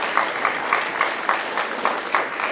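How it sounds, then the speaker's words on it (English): Applause from an audience at a school strings concert, a steady wash of clapping with a rhythmic unison beat running through it. "Let's give a big round of applause again for these awesome students."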